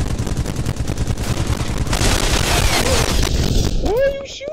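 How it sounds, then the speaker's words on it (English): Gunfire in the VR shooter Pavlov VR, continuous rapid automatic shots rattling loud and close for several seconds, with voices talking over the shooting. "Why are you shooting me?"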